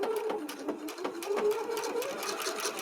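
A Husqvarna Viking sewing machine with an edge joining foot sews fabric in a steady, fast mechanical whir with rapid rhythmic needle clatter, heard close and alone for a few seconds.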